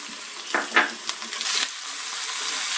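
Garlic and thuthuvalai leaves sauté in a pan with a steady, hissing sizzle and a few brief stirring scrapes early on, close and alone.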